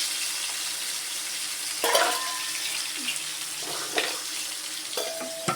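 Tomatoes sautéing in a pan for drumstick kara kuzhambu: a steady soft sizzle with several brief stirring scrapes and clinks, fairly close and alone without voices.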